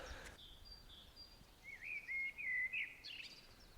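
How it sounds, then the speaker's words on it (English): A blackbird sings a rich, unhurried warbling phrase from a treetop outdoors, faint and distant, its fluty notes strongest midway through, with no talk. "There's another gorgeous blackbird just on our right here."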